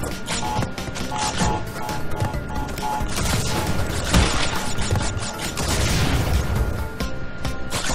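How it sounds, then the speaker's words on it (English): Wooden crates smashed in the video game Crash Bandicoot 3 remastered, a busy stream of cracks and clattering breaks over a constant loud game soundscape. "Okay, I'm trying to destroy the boxes"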